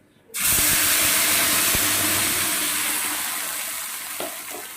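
Ground spice paste of chili, ginger, onion, garlic and tomato hits hot oil with a sudden loud sizzle. A steady, dense hiss follows and slowly eases, with a few small pops near the end.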